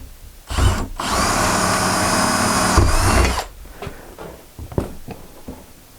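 A power drill drives screws into a van ceiling in two close, loud bursts, one long and one shorter, each with a steady whine, followed by a few faint knocks and clicks.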